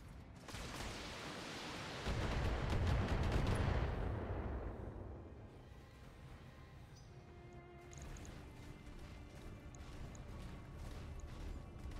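Weapon fire from stray shots in the Battletech mech combat game: a loud burst of crashing, booming impacts swells around two to four seconds, then fades into a low rumbling wash with scattered faint mechanical tones.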